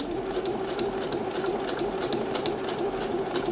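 A sewing machine running steadily on a cushion seam, a close, even mechanical whirr that continues without a break.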